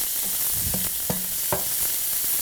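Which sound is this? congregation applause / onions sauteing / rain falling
onions sauteing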